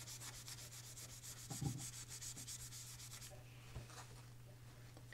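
A small Scotch-Brite pad scrubs vinegar-treated, corroded battery contacts from leaking alkaline batteries, a quiet, close, rapid back-and-forth scratching rub that runs steadily before easing off.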